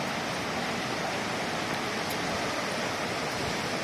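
Devkund waterfall pours in a steady, loud, unbroken roar of rushing water, close and dense with no other sounds standing out.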